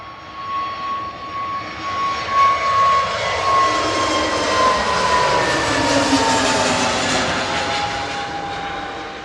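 An EasyJet Airbus A320neo flies past at Manchester Airport, producing a steady, fairly distant jet roar with a faint whining tone that swells slightly and holds for the whole stretch.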